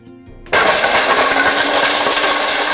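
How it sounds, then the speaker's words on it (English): A DeForm 1 shredder with carbide shredding blades starts up: half a second of low hum, then an abrupt burst into a loud, steady, broadband grinding whir that holds at full strength to the end. "Equipped with state-of-the-art carbide shredding blades and quick destroy technology, DeForm 1 is designed to handle even the toughest of tough materials"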